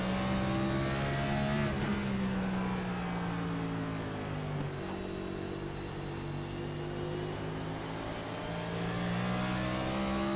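NextGen Cup Series race cars at North Wilkesboro, on flat corners, with engines droning and rising as throttle comes on at the corner exits. Several cars sound close together, with pitch sweeping steadily and no voices.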